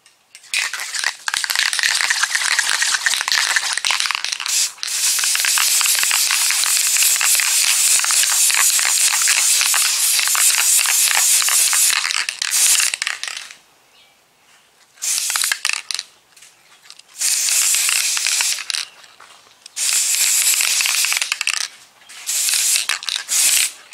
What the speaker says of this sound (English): I'm gonna spray a guide coat on it again.